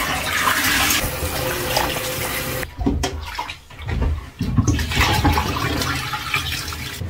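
Salted cabbage rinsed under a running kitchen tap, water gushing and splashing steadily with short interruptions as the leaves are moved about.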